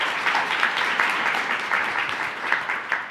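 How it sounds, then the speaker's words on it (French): Audience applause at a talk for an association helping livestock farmers, a steady dense wash of many hands clapping at moderate volume, continuous and unbroken with no voices on top. "Vous pouvez applaudir si vous voulez"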